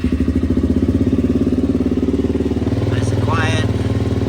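A Suzuki LTZ 400 ATV engine idles with a rapid, even thumping putter, close and steady, and a brief higher whine rises near the end.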